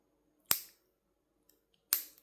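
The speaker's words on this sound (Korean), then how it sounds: "그래서 대는 최대한 살리기 위해서 저는 직각으로 잘라줍니다" Scissors make two crisp, separate snips a little over a second apart while cutting a corner at a right angle in a crocheted bag piece, close and clear in a quiet room, with faint handling sounds between them.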